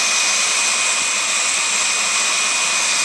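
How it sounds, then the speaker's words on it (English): A heat dryer blows hot air onto the plastic seal of a car window, giving a loud, steady, close-up whooshing roar with a constant high whine that runs unbroken the whole way through. "The heat dryer causes the plastic to contract and tighten up on the double stick tape"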